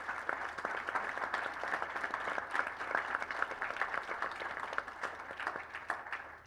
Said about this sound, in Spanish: me parece que se merecen un aplauso por la labor que han llevado adelante ayer y hoy